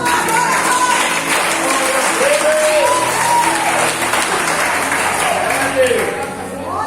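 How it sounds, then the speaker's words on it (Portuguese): A church congregation claps together in worship, sustained loud applause filling the room, with tonal sliding sounds, likely voices or music, rising over the clapping throughout. "aplauda o nome de Jesus"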